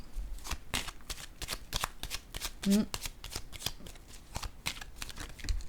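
Tarot cards being shuffled by hand, a steady run of close, crisp riffling snaps in quick rhythm throughout, with a voice speaking briefly partway through.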